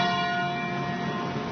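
Church bells ring out steadily along Auburn Avenue in Atlanta, a sustained, resonant peal with layered overlapping tones and no voices.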